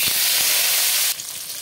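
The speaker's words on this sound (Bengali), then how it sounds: "দিয়ে দেবো অল্প হলুদ, দিয়ে দেবো কেটে রাখা আলু।" Potatoes frying in hot mustard oil with a little turmeric give a loud, steady, close hiss throughout. The hiss drops a little toward the end.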